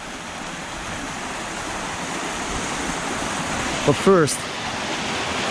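Water spills steadily over the edge of a resort infinity pool, a constant broad rushing wash with a brief voice near the end.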